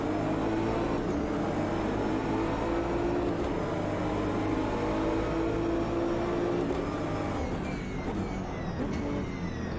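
BMW six-cylinder turbo engine in Automobilista 2 hums at steady, moderate volume, a sustained drone holding near-constant pitch with faint whine over it.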